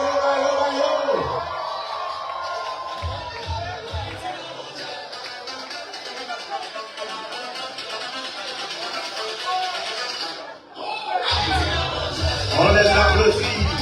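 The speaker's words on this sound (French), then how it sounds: "On les applaudit." A crowd at a Toronto reception welcomes the Haitian men's national football team. A host's voice comes first, then a loud burst of cheering, whooping and applause swells near the end.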